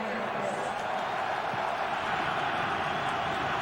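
Stadium crowd at an NFL game between the San Francisco 49ers and Philadelphia Eagles on third down, a broad steady roar of many voices filling the air, swelling slightly and continuous throughout.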